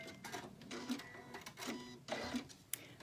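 A sewing machine stitching a seam along a cloth guide in short quiet bursts of rapid clicking needle action, three separate runs with brief pauses between, close and soft.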